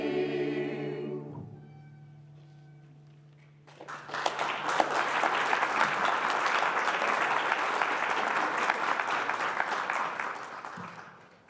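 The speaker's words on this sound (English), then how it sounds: "Thank you for applause here" A Unitarian Universalist church congregation bursts into applause after a sung hymn, the music's last sustained notes fading before a full, steady round of clapping that continues until it tapers off.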